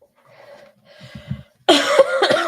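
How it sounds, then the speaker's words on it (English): A man coughs during a World of Warcraft stream, starting with a few soft breaths and muffled throat sounds, then a loud, close burst of harsh coughs that carries on to the end. "Got a little bit of a cough there."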